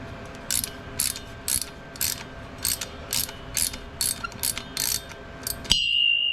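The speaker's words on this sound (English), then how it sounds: "You want this in the easiest place to move your ratchet, obviously." Ratchet clicking in a steady, even series of about a dozen quick strokes while undoing the universal joint bolts under a Land Rover Defender 110 200Tdi, close up, ending in a sharp metallic ring.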